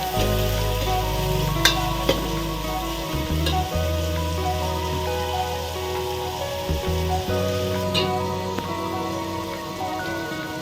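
Sliced onions sizzling in hot oil with salt for chicken biryani, producing steady crackling and spitting close up, with occasional clinks and scrapes of a stirring spoon.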